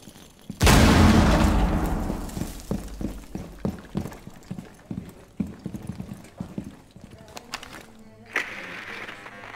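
A grenade blows up in Rainbow Six Siege with a sudden loud boom that decays slowly, followed by a run of quick footsteps and small clatters, with a sharp hit near the end.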